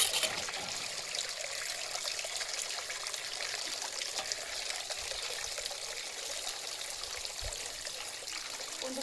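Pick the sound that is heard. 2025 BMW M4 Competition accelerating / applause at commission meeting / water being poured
water being poured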